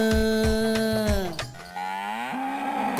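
A cow moos loudly and close by, several long drawn-out lowing calls with a rising and falling pitch, with no talking.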